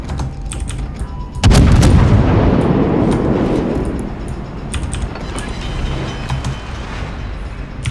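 Naval artillery from warships in World of Warships, a heavy booming salvo that erupts loudly and rolls off into a long rumbling decay, with faint clicks around it.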